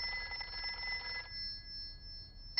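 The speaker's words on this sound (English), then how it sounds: "Let's phone Dr. Hamster the vet." A cartoon telephone rings in a Peppa Pig episode, a bright electronic trill lasting about a second before cutting off into near silence.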